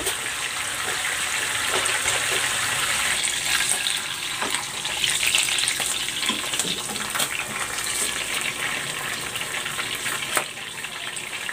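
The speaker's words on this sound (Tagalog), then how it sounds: "Ipiprito na natin itong bangus." Milkfish (bangus) fries in hot oil with a steady, dense sizzle that keeps on for over ten seconds, fairly loud and close, with a few sharper crackles.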